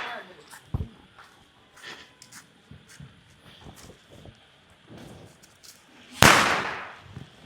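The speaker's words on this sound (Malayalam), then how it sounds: "നമ്മൾ പടക്കം വാങ്ങിയിട്ടുണ്ട്." Amid scattered outdoor talk during Diwali, a firecracker goes off with a sudden loud sharp bang near the end, and a smaller pop sounds early on.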